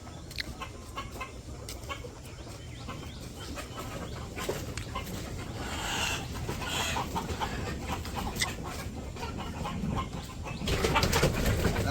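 Chickens on a poultry farm at feeding time on a rainy day cluck and squawk in a busy, overlapping chorus, with steady background patter and the calls growing louder and denser toward the end.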